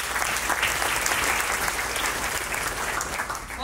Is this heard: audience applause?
yes